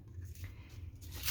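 Tissue paper torn by hand for a collage, a short, soft papery rip that builds at the end, close and quiet.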